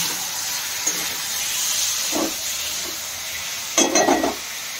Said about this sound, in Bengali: তো এই মশলা দিয়ে কষিয়ে নেবো ভালো করে।